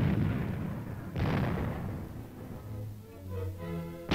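A tank main gun firing armor-piercing tracer rounds, two heavy booming shots with long rumbling decay, followed by a steady engine hum and a sharp sound at the very end.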